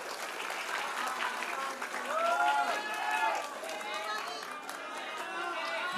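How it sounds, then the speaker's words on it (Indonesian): A crowd at a public question-and-answer event in Pontianak applauds steadily, with a sustained wash of clapping and some cheering voices mixed in. "Kita tepuk tangan dulu dong untuk Bang Kava."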